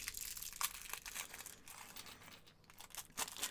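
Plastic bags crinkling and rustling as Lego McLaren pieces are emptied out, with busy close crackles and small crunches coming in uneven bursts at a quiet level, no talking.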